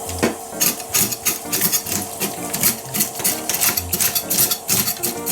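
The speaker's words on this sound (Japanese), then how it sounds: "鱗は包丁で落としていきます。" Kitchen knife scraping scales off a sea bass, a fast, continuous rasping and clicking in steady strokes, close and fairly loud, with no talking.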